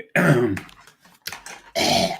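A few harsh, throaty coughs up close, two loud bursts separated by a brief quieter cough, with rough raspy texture.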